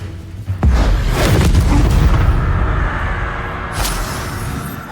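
Bombarda and Expulso spells explode in the Hogwarts Legacy video game: a loud, booming blast with a sharp attack, then a long rumbling decay and a smaller burst near the end.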